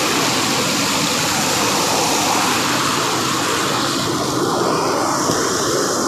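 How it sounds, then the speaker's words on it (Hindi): A waterfall near Rishikesh roars steadily nearby, a dense, unbroken rush of falling water that stays loud from start to finish. "कितना खूबसूरत झरना है"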